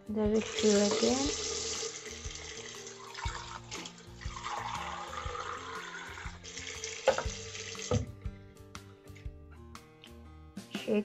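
Tap water runs steadily into a sink to refill for rinsing a makeup brush, a close, continuous splashing hiss for about eight seconds before it cuts off, leaving faint clinks and handling noises.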